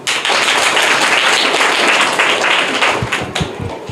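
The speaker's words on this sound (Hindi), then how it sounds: "जोरदार ताली" Schoolchildren in a Bihar private school classroom burst into loud, fast clapping that fills the room, then thins out into a few scattered claps near the end.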